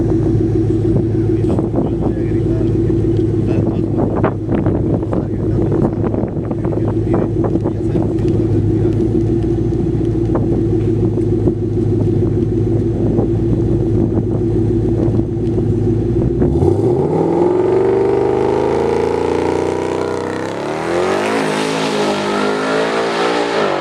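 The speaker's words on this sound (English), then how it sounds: "There's an LPF car, built trans-built motor, a little bit bigger turbos." A twin-turbo Ford Mustang drag car with a built transmission, built motor and slightly bigger turbos makes a loud, sustained roaring engine note, then rises into a rapidly climbing, receding acceleration howl as it launches down the strip.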